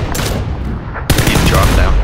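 Gunfire in the video game PUBG, with a rapid burst of shots, a short lull, then a louder, denser volley close by.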